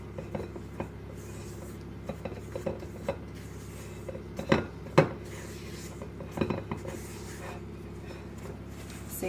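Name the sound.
spoon stirring cookie dough in bowl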